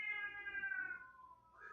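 A mating cat lets out a single long caterwaul, a drawn-out, slowly falling yowl that fades near the end before a short rising note, fairly faint with no talking.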